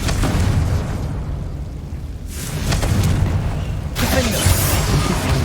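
Confringo fire spell explosions in the game Hogwarts Legacy, loud booming blasts around the two- and four-second marks over a continuous rumbling game soundscape.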